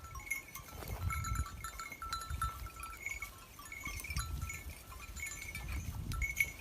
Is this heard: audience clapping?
no